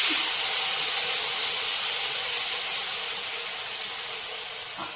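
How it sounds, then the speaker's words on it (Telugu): Potato pieces fry in hot oil, with a loud, continuous hiss that starts strong and slowly fades over several seconds and has no talk over it. "జస్ట్ మనం ఆయిల్ వేసుకొని వేయించేసుకోవచ్చు. ముక్కలు వేసేసుకుందాం."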